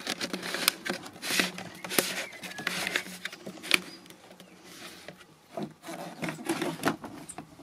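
A plastic hose adapter is screwed onto the exhaust hose of a portable 7000 BTU air conditioner, making close rubbing and scraping plastic sounds with soft knocks in uneven bursts.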